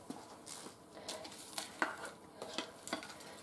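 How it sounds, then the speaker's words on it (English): Rehydrated refried beans stirred in a pot with the heat turned off, with soft wet scraping and tapping of a spoon at an irregular rhythm, quiet and close. "So I'm just going to mix it all up."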